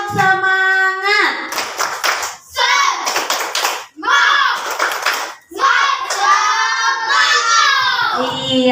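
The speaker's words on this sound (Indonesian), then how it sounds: "Tepuk tangan untuk kita semua. Tepuk semangat." Students in a classroom lesson clapping hands in a rhythmic group clapping routine, with children's voices chanting and speaking along between the claps, loud and close throughout.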